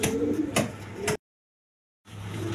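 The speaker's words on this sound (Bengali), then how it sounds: "এখানে 1 পেয়ার রাজগোল্লা কবুতর আছে" A pair of Rajgolla pigeons cooing nearby, a few soft low coos over a faint background, broken by a sudden short stretch of total silence before the ambience returns.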